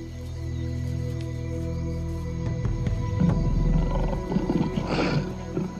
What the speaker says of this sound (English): the lion appears to have no interest in hunting, impala or dog